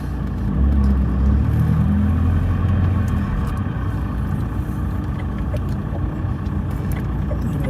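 A car engine rumbles steadily at low speed while parking, a continuous close drone with slight variation and no talk over it.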